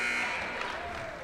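A basketball arena buzzer sounds at the end of the first quarter of a women's college game, a steady loud tone under crowd noise and an announcer's voice.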